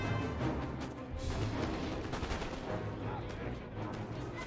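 Napoleonic musket and cannon fire in a Napoleon: Total War battle at Arcole, a dense crackling fusillade with repeated booms, and a voice speaking briefly over it.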